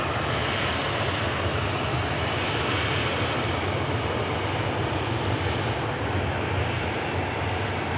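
A Ryanair jet departing Manchester Airport for Cologne gives a steady, broad engine roar that holds loud and even throughout, with no voices over it.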